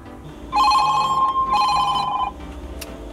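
A phone call rings through aftermarket CarPlay in a BMW 328i: two trilling ring bursts, each about a second long, clear and close inside the car cabin with a low background hum.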